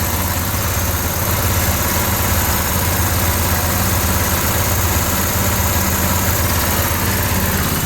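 A small 24 volt generator driven at a 2-to-1 ratio runs with a steady, loud, even drone and constant vibration, close by and with no voices.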